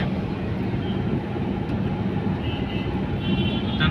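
A steady, loud rumble of a passing train rolls on without a break, with faint higher squeals and scraping mixed into the continuous roar.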